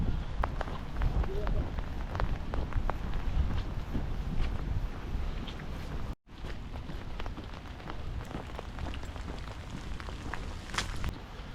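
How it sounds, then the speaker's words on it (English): Steady rain falls around someone walking outdoors in Rosyth, with broadband patter, scattered drop hits and some wind buffeting on the microphone, continuous apart from a brief dropout midway. "it has not stopped raining since I started walking about this morning"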